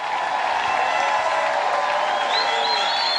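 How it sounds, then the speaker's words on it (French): A French-speaking church congregation applauds and cheers for the Lord at a February closing service, producing a dense, steady wash of clapping with a few whistle-like cheers on top. "Est-ce qu'on peut applaudir le Seigneur?"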